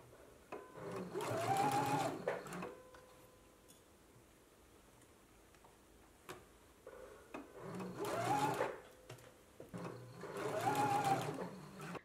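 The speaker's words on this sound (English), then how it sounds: "basting the ruffle in place." A sewing machine bastes a ruffle in place, running in three separate bursts of quick, steady stitching with quiet pauses between, fairly close and clear.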